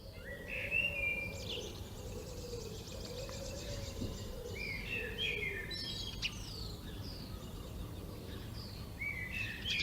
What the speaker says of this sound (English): I listen to the birds.